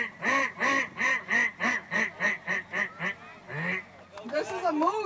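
A man imitating a mallard duck call with his voice, a rapid series of about a dozen loud nasal quacks in steady rhythm, then tapering off into a few softer, looser calls.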